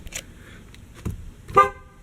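Horn of a 2003-2007 GMC/Chevy truck with a repaired corroded horn contact, giving two or three short honks in a quiet cab, the last one loudest.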